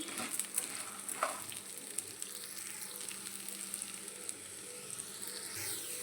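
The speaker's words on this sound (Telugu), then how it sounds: "కొంచెం జీలకర్ర, కొంచెం ధనియాలు మొత్తం బాగా వేపుకుందాం. మొత్తం ఆయిల్లో బాగా ఇవంతా కలుపుకొని వేపుకోవాలి." Whole cumin and coriander seeds fry in hot oil for a karam podi spice powder, a steady close sizzle with small crackles and a few louder pops and stirring scrapes, with no voices.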